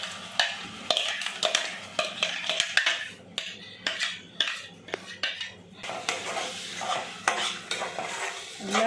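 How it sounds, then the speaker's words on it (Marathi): An onion-tomato paste sautés in a pan for Veg Maratha gravy with bay leaf. A utensil scrapes and stirs it in repeated close strokes over a soft, steady sizzle. "कांदा टोमॅटोची पेस्ट,"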